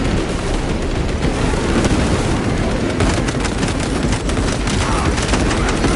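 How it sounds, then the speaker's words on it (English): Warhammer 40,000: Space Marine 2 battle with steady gunfire and a frag grenade blast, a dense continuous roar of shots and explosions at constant loudness, faint voices buried in the din. "Frag grenade out!"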